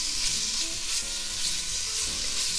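Cheap bacon frying fast in a pot, a steady loud hiss and crackle of sizzling fat running unbroken throughout with no voices.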